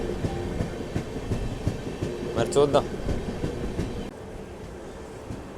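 Sabari Express from Trivandrum to Secunderabad rolling along the main line, a steady rumble and rattle of carriages with a brief squealing burst near the middle, while a person talks over it.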